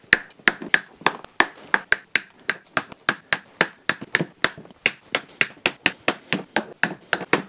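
Pliers snip off excess melted plastic on a car part, giving a rapid series of sharp, crisp clicks at a steady, fast rhythm, close and distinct with no speech.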